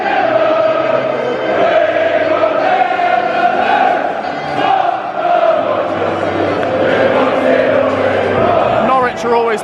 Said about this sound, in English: Brilliant crowd.